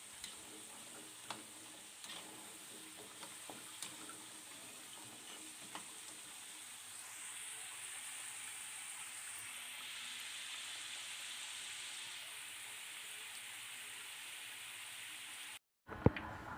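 Cassava pieces fry in hot oil with a steady, soft sizzle and fine crackling that swells midway and holds at an even level, punctuated by occasional light clicks from stirring; no voices.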